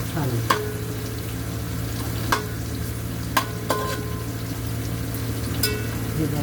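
Onion frying in a pan for a home-style red pumpkin and chilli dish, with a steady low sizzle and a hum beneath, punctuated by a few sharp spatula scrapes and clicks as it is stirred.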